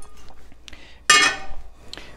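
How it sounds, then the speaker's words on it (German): Cauliflower dropped into a pan holding a thin layer of salted water gives a single sharp splash and sizzle, loud and alone amid quiet kitchen clatter. "Und machen da einfach den Blumenkohl rein."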